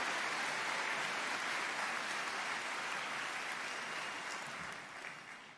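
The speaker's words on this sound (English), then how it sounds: "Let's give our student speakers a round of applause." Graduation-ceremony audience at a high school commencement applauding student speakers, a dense steady clatter of many hands heard from a distance that fades slightly toward the end.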